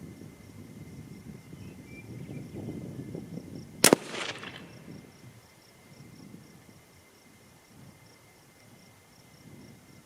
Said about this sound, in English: All right, one last shot.